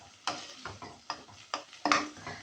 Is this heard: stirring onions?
yes